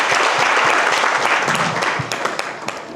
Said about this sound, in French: On tape, on applaudit.